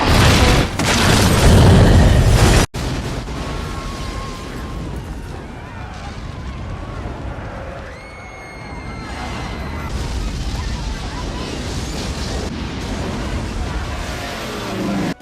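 Loud explosions and blasts from a UFO attack in a Godzilla film, a heavy booming burst at the start followed by sustained rumbling destruction and crashing, with a descending whine partway through.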